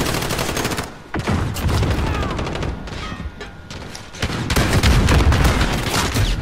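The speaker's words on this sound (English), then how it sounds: "I'm shooting everything!" Rapid gunfire in Modern Warfare multiplayer, loud, dense bursts and sustained automatic fire filling the whole stretch, with a brief lull near the start before the shooting resumes even heavier.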